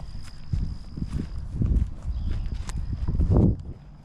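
A Clydesdale horse walks in a pasture, its hooves clip-clopping in an uneven walking rhythm. The steps are close and moderately loud, with faint background noise.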